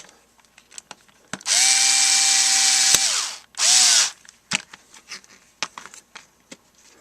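A Ryobi HP44L Quickturn cordless lithium-ion screwdriver whirring close up in two bursts, a long steady run then a shorter one, followed by scattered clicks and handling taps.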